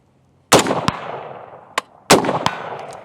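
Two sharp gunshots from the Orca rifle, each a loud close blast with a ringing decay, accompanied by fainter clicks and clanks of the action between them.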